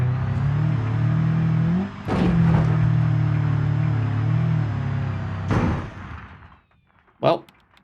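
A minivan engine fitted with a stage 2 turbo revs hard in BeamNG, a loud sustained drone climbing then dropping, cut by sharp bangs as the motor blows, then fading to quiet with one last short pop.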